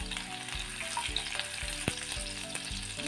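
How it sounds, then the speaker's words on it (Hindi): Mustard seeds, cumin, ginger and garlic frying in hot oil for a veg burger filling, a steady close sizzle with crackling pops and stirring scrapes throughout, no talk. "ऑयल गर्म होने के बाद हम इसमें डालेंगे थोड़ी सी राई, थोड़ा सा जीरा"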